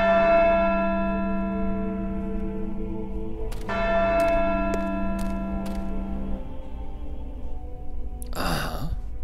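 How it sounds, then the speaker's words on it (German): Bell in the video game Syberia 2 rings with long, sustained metallic tones that fade out, then a few short bright strikes follow, ending with a breathy sigh-like sound. "Eine Glocke?"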